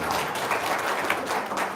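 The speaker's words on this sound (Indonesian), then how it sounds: "Tepuk tangan dulu dong." An audience claps together at an Indonesian religious talk and testimony gathering, a dense steady wash of hands that swells slightly in places across a couple of seconds, with no voices over it.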